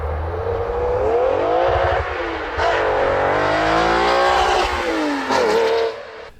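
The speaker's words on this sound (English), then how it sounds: "I love the exhaust note on this car, so let me just share a flyby with you guys." A car with a naturally aspirated 2GR-FE engine makes a loud flyby, its exhaust note rising and falling through several rev sweeps as it passes close by.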